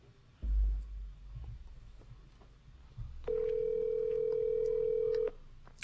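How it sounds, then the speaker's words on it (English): A telephone call being placed: a short low rumble of handling, then a steady ringback tone holding for about two seconds before cutting off, with no one talking. "Let's call him right now."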